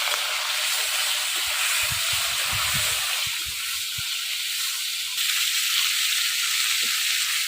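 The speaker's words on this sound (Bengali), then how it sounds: "এই দেখেন মাছের মাথা ভাজা হয়ে গেছে," A hilsa fish head fries in very hot oil in a wok, giving a loud, steady sizzle and hiss throughout, with brief crackling pops in the middle.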